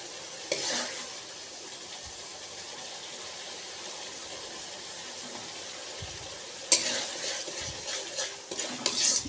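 Spice masala sizzles softly in hot oil in a pan, with occasional scraping strokes of a spoon as it is stirred, quiet and close with a few louder clatters.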